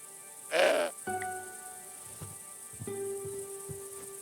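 A goat bleats once in the video game Broken Sword 5, a short, loud, wavering cry near the start, followed by quieter tonal game ambience and soft background sounds.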